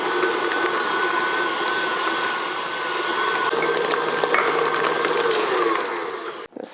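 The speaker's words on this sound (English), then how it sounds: "we're gonna mix this together until nice and smooth" Electric hand mixer beating cream cheese and brown sugar until smooth, a steady close motor whine with a gritty churning edge, running continuously before stopping abruptly near the end.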